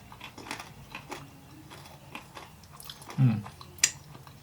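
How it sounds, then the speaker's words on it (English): A Dubai Kit Kat wafer bar is chewed close to the mic, giving soft, irregular crunches across several seconds, with one louder crunch near the end. "Because you got the crunch of the wafer"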